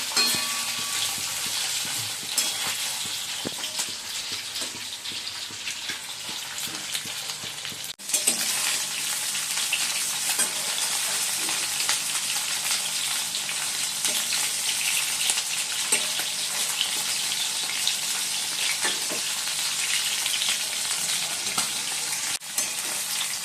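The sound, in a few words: chicken frying in oil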